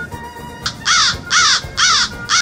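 A crow caws three times in steady succession, loud and close, with no talk over it, in a French children's picture-book reading.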